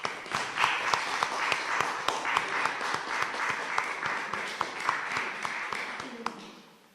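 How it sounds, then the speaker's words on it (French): A congregation applauds together at a Christmas mass, a steady wash of many hands with sharp individual claps standing out, sustained for several seconds before tapering off at the end. "on peut alors tous ensemble s'applaudir pour cette joie,"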